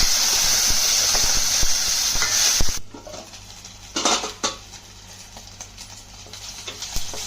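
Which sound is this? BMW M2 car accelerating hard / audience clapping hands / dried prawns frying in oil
dried prawns frying in oil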